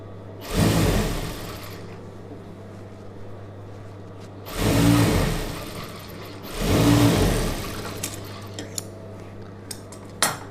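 A sewing machine stitches a chudidhar neck in three loud motor bursts of a second or two each, separated by quieter pauses with small clicks and handling.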